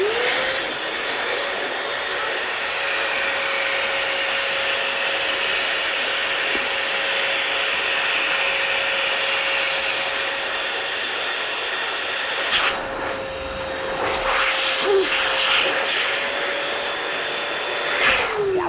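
A hand pump steadily inflates a 260Q modelling balloon for a Halloween hat design, giving a continuous airy hiss with a faint rising squeak that runs for most of the clip, fairly loud and close, with no talking.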